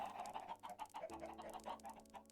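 Chickens in Minecraft keep up a steady stream of soft, repeated clucks over a low background tone, faint and without any talking.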